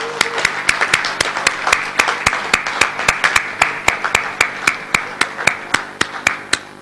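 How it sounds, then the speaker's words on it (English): An audience at a Lions Club mushaira poetry gathering in Riffa, Bahrain claps in a steady, rhythmic unison beat, loud and close, about three sharp claps per second throughout, with no talking. "He deserves a big round of applause."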